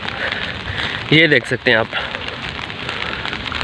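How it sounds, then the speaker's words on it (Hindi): Rain falls outdoors on a university campus in China, a steady hiss of drops on surfaces that runs throughout, briefly overlaid by someone speaking near the middle. "बारिश हो रही है"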